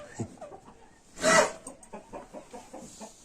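Close clucking from a feather-footed hen, a run of soft rhythmic clucks broken by one loud, harsh squawk in the middle.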